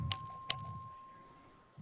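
Bell rung in a state legislature chamber to call a record vote: two sharp, ringing strikes about half a second apart with a long sustained tone, then a faint third onset.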